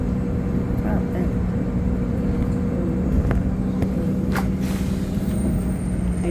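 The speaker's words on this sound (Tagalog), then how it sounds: "Busy ang freeway. Tingnan mo. Traffic." Busy freeway traffic heard from inside a moving vehicle, a constant loud road rumble and engine drone with a few brief hisses and whooshes from passing vehicles; a voice speaks faintly under it.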